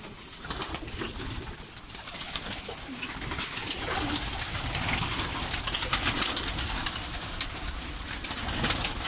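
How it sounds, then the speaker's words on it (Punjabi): Pigeons coo steadily in a loft of fancy birds where many are sick and some have died, a dense, continuous chorus of overlapping calls up close with soft rustling throughout and no talk. "ਕਬੂਤਰ ਆ ਗਏ ਨੇ।"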